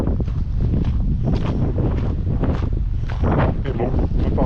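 Powerful wind roars on the Fitz Roy hiking trail, buffeting the microphone in loud, continuous gusts that swell and ease without pause.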